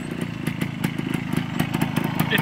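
A small yellow Suzuki mini motorcycle runs close by with a steady buzzing engine, its pitch wavering slightly as it passes, and no voices over it.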